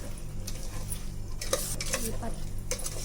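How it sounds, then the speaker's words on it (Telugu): Drumstick pickle pieces being stirred with salt and chili powder in a pickle mixture, a close scraping and clinking of a utensil against a vessel in uneven strokes over a low hum. "కలిపేసుకుందాం అంతా ఉలక్కడ ముక్కలకు పట్టేలాగా ఉప్పు కారం"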